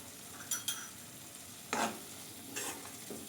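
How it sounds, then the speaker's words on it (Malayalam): Tomato chutney with onion and coriander leaves is stirred in a pan over a low sizzle, with a few short, close scraping strokes of the spoon. "ഇതിലേക്ക് ലേശം മല്ലിയിലയും ചേർക്കുക നല്ലപോലെ മിക്സ് ചെയ്ത് കൊടുക്കുക"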